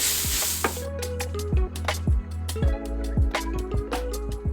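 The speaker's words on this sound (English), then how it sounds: "you're gonna take your shredded sweet potato and put it in, and it's gonna start cooking right away" Shredded sweet potato sizzles in hot oil in a pan. A steady frying hiss runs under a series of sharp knocks and scrapes as the pieces are stirred.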